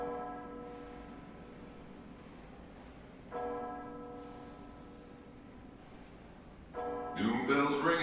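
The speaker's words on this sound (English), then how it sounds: "Doom bell's ringing, Doc." Slow, resonant church bell strokes ring out at spaced intervals, each tone lingering and fading, with a voice starting up at the end.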